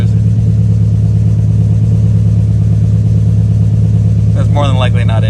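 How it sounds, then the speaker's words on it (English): Nissan 300ZX engine (1990–96 model) running steadily at a constant pitch, loud and close throughout, with a brief speaking voice near the end; any revving is not distinct in the steady drone. "it's not misfiring when I rev it. Yeah, it revs up fine"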